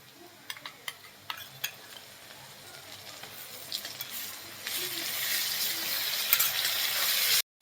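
Ginger garlic paste hits hot oil with browned onions, starting with a few sharp clinks and stirring taps, then swelling into a loud, steady sizzle that keeps building to the end.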